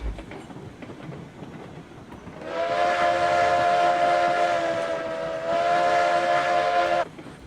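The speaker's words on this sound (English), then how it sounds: "Great whistle on this one." A steam locomotive whistle on a 4-8-0 engine in the video game RailRoads Online sounds one long, loud, steady blast lasting several seconds after a quiet start, dipping slightly midway before cutting off.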